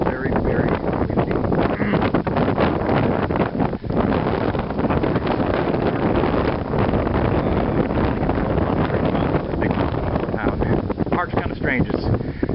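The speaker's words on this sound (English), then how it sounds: "Here, very, very windy." Strong wind buffets the microphone in loud, constant rumbling gusts, with a few faint indistinct sounds beneath the roar.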